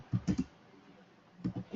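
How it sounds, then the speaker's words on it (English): Keys on a computer keyboard are struck in two short bursts of quick clicks with a quiet pause between, close by, while a web search is typed into a browser. "open Chrome and type here Java download"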